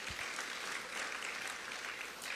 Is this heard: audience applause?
yes